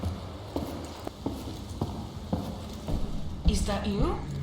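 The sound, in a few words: footsteps in the video game Paradise Lost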